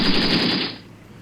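Small arms fire in the war game Graviteam Tactics, set in the Soviet-Afghan War, comes as a dense rapid burst of loud gunfire that cuts off after under a second.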